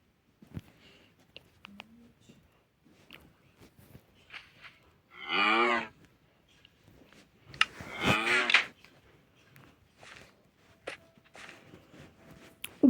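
A cow in the Minecraft video game moos twice, each a loud drawn-out bellow a few seconds apart, over light in-game footsteps and clicks.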